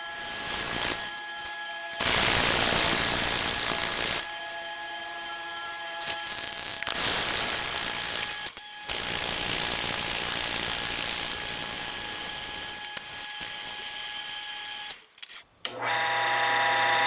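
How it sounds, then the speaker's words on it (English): A wood lathe spun up to high speed while turning a pen blank gives a steady, loud broadband whine with a constant tonal hum, holding throughout with a brief higher squeal near the middle before cutting off at the end. "I've never had my lathe turned up this high before"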